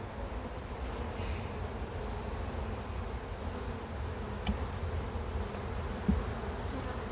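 A dense swarm of honey bees hums continuously around an open hive nearby, a steady droning buzz with a few individual insects passing closer.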